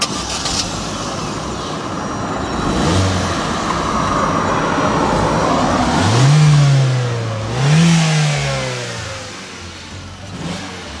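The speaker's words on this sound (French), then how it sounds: "on entend plus le moteur là qu'à l'échappement" An Opel Astra J GTC 1.6 Turbo engine with LPG conversion revs up and down in a couple of rising, swooping pulls, fairly loud over a broad background roar of road noise.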